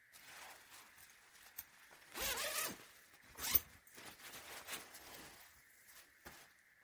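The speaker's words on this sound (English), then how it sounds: "And it got the zipper there." A zipper on a medium-weight military surplus garment is pulled in several close, scratchy runs, with one longer zip in the middle and a sharp tug after it, in a quiet room.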